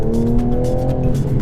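A 2020 Toyota Supra MK5 accelerates in sport mode. Its engine gives a loud, close, continuous roar with a steady rising drone for the whole short burst.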